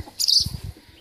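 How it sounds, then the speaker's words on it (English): A brief burst of high, thin bird chirps, close by, with soft low rustling and thumps underneath. "we have a nest with the small birds in here"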